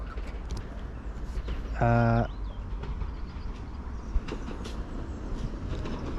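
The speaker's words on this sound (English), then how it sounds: "Okay, so our train arriving now." A train arriving at a platform on the Carmarthen to Pembroke Dock line sounds a short, loud horn blast amid steady outdoor rumble and ambient noise, with a faint clunk a couple of seconds later.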